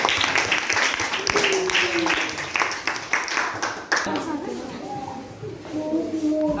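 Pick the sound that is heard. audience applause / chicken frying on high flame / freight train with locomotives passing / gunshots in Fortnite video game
audience applause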